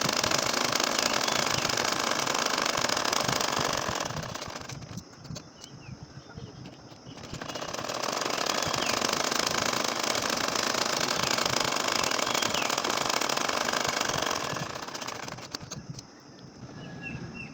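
A sewing machine runs in long continuous bursts while stitching a nakshi kantha quilt, with a steady mechanical whir that pauses briefly near the middle and again near the end.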